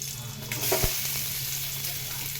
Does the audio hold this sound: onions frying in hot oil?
yes